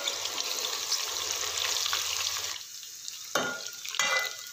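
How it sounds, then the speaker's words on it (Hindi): Two medium-sized chopped onions sizzle and crackle in hot oil in a pan for chicken pulao, a steady bright frying hiss that drops away partway through, followed by a couple of sharp stirring scrapes. "साथ ही मैं इसमें शामिल करूँगी चॉप किए हुए प्याज"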